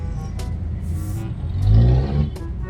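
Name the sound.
heavy road traffic in Manila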